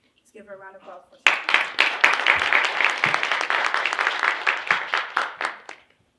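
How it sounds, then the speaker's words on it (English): A room of people applauds for the introduction speaker at a Women's History Month kickoff event at Prairie View A&M University, the clapping rising sharply from brief talk into a steady, lively round before fading out. "give her a round of applause"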